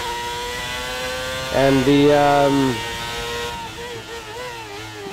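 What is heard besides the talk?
F1 racing car engines from the video game F1 22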